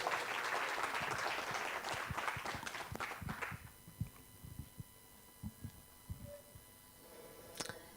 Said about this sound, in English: Can you please give her a huge round of applause?